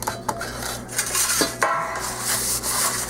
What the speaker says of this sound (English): tinfoil wrapper from the butter to make sure that it's all spread out